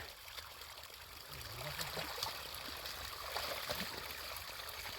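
Irrigation water flowing through a garden plantation, a steady faint trickling and gurgling stream heard from nearby, with faint voices in the background.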